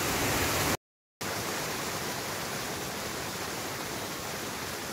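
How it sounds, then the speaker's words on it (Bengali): A mountain waterfall on a high-altitude trek roars as a loud, dense, constant rush of falling water that fills the whole clip, interrupted only by a brief dropout near the start. "এই ঝর্ণা ওপরের দিকে উঠে গেছে।"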